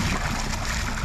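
Water gushing steadily from the exhaust outlet of a diesel boat engine while motoring the Atlantic Intracoastal Waterway: a close, continuous rushing splash with a low churning rumble underneath, unbroken for the whole moment.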